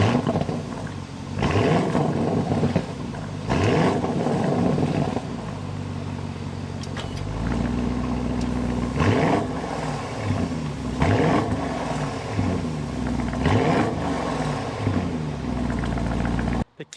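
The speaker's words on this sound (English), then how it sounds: "start it up so you can hear that exhaust note." A 2025 Audi SQ7 twin-turbo 500-horsepower V8 starts and settles into a deep, steady exhaust rumble, with loud revving swells recurring throughout and speech faintly underneath.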